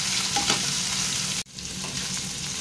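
Spiny gourd (kakrol) frying in a pan on a home stove, a steady close sizzle with a brief drop-out partway through before the hiss resumes.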